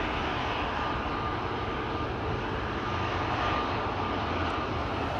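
An EasyJet Airbus A321neo jet airliner at Amsterdam Schiphol gives a steady, continuous broadband roar with a faint whine, a constant level throughout with no talk.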